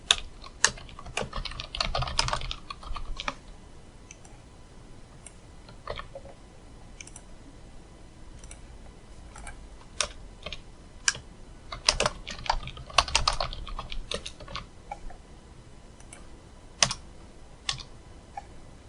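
Fingers type Python code on a computer keyboard in quick, irregular bursts of close clicking keystrokes with short pauses between runs, and no voices.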